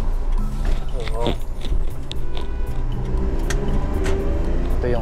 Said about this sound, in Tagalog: ito yung Coastal Road sa Davao